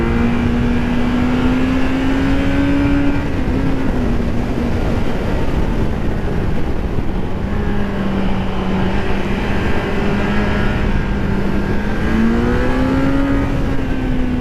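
A Kawasaki Z900 motorcycle on Michelin Power 5 tires pulls hard under throttle, a steady loud engine drone rising and falling in pitch over heavy wind rush.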